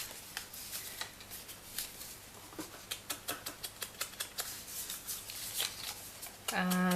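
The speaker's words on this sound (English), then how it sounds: "So we're just going to fold the score lines of the belly band." Paper belly band folded along score lines on an envelope punch board, giving a run of soft, crisp creasing and tapping clicks, close and quiet, with a brief voice at the very end.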